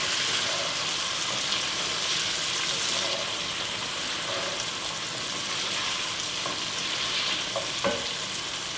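Cherry tomatoes fry in a pan for a pasta dish, giving a steady, close hiss of sizzling with a few faint clinks and stirring sounds.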